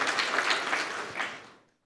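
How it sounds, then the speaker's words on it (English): A brief round of audience applause at a Ukrainian researchers' networking event in Germany, dense clapping that fades out and ends in silence. "A short round of applause."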